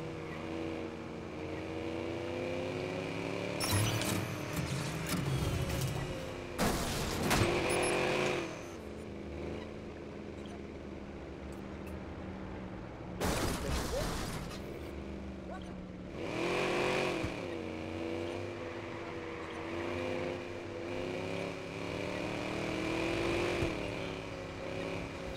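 Car engine droning and revving in the video game Watch Dogs, with gunfire-like bursts and a few loud impacts while the player drives and shoots; a voice talks over parts of it.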